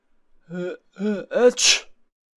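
A man telling a children's story about a crocodile imitates a sneeze with his voice: three rising, drawn-out 'ah' breaths, then one sharp, hissing burst, all close and alone.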